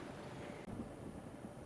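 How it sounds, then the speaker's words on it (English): Wind blowing outdoors in a garden, a steady low rushing roar with buffeting against the microphone, continuous and fairly faint, no voices. "you can probably tell it's getting windy again"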